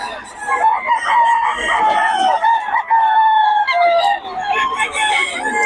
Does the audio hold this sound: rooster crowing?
yes